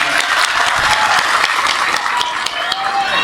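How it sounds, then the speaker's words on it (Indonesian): Crowd applause at an outdoor Indonesian village religious gathering, loud continuous clapping from many people with crowd noise mixed in throughout. "Tepuk tangan untuk Sirandu"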